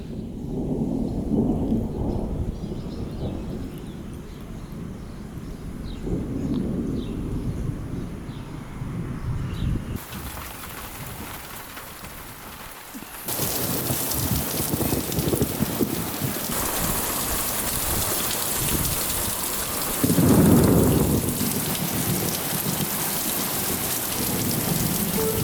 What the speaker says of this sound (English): During the heavy rain, we went to sit in the camper.